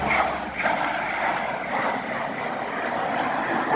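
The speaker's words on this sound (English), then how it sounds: "The airplane was flying at 250 knots or 284 miles per hour" An airplane flies past at high speed during an airshow, a loud, steady engine roar that stays strong throughout and drowns out everything else.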